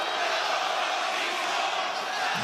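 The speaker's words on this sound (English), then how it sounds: "You can hear the 50-50 split between the raucous crowd here in Atlanta." A raucous wrestling arena crowd in Atlanta roars steadily and loudly, a dense wash of cheering split between two sides, sustained without a break.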